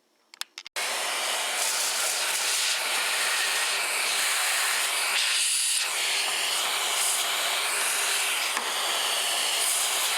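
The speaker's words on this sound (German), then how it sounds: "jetzt reinigen wir erstmal mit dem Staubsauger." A vacuum cleaner switches on after a few clicks and then runs with a loud, steady hissing roar while it cleans inside a disassembled Saeco Magic coffee maker.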